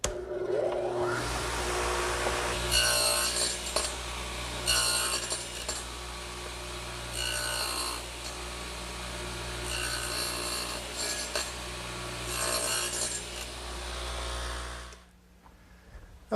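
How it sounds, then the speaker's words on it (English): A radial arm saw nibbles away the shoulder of a wooden tenon in a workshop, its motor humming steadily while repeated rasping cutting passes surge and fade in a regular rhythm. "I've raised the radial arm saw and installed a higher fence"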